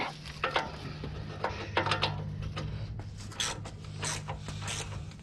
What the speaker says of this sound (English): So first thing's gonna be 1/2-inch ratchet. And we'll see if that'll go up without spinning.